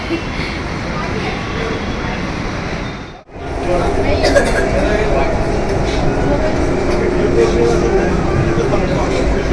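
A metro train rumbles loudly through a station, a dense roar that briefly drops out and then returns steady, with people talking underneath.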